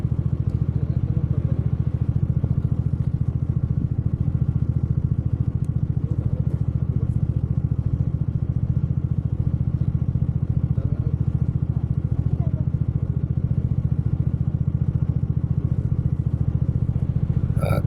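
A motorcycle carrying two riders travels through light rain on an overcast morning, its engine droning steadily with a low, pulsing rumble and a constant hiss of wind and road noise throughout.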